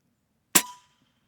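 Rifle bullet striking a steel target plate at a shooting range with a Taipan Veteran II Tactical rifle, a single sharp metallic clang with a short ringing tail, alone in near silence.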